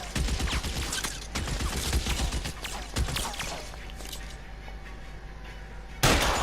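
Gunfire in a shootout in the video game L.A. Noire, with rapid bursts of shots over the first few seconds, then a sustained rumble and a sharp blast near the end, with a voice briefly heard.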